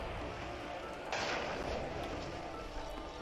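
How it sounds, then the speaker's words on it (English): Explosions in Monster Hunter 4 Ultimate during an online G Rank fight against White Fatalis, a sudden burst of rumbling blast noise about a second in that lingers and fades under faint game background. "Explosions!"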